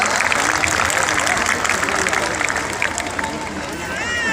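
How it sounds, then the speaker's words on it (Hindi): A crowd at a school ceremony honouring children's performance breaks into dense, continuous applause that stays loud throughout, with a faint murmur of voices mixed in. "उनके लिए तालियां।"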